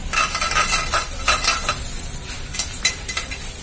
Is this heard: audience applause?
no